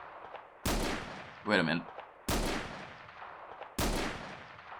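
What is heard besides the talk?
gunfire in video game Where Eagles Dare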